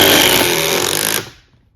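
A Milwaukee power tool drives a 3-inch T25 screw with a loud, harsh, continuous buzzing whir at close range, then cuts off abruptly and rings down.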